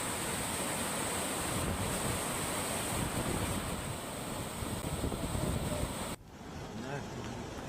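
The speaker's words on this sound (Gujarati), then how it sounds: "પર્વત નીચે આવેલા ધોબીપાટનો ધોધ વહેતો થતા પર્યટકો ધોધનો આનંદ માણી રહ્યા છે" Dhobipat waterfall flowing below a mountain during heavy monsoon rain in Gujarat, a loud, steady rushing roar of falling water with wind noise, continuous throughout and briefly dropping in level near the end.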